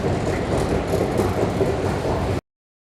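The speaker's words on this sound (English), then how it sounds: "Let's take the subway right now." A New York City subway train on the Upper East Side rumbles steadily with a continuous rolling roar and faint rail clatter, heard close and alone before cutting off abruptly.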